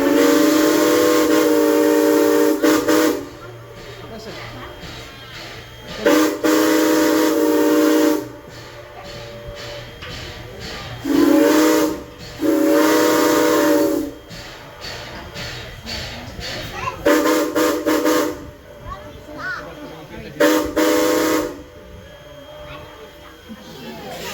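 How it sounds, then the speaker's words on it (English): A steam locomotive whistle blows several long, loud blasts with pauses between them, and rumbling rail noise fills the gaps, with an echo returning from the distance. "when he blows the whistle, it sounds like somebody's blowing one back at us in the distance"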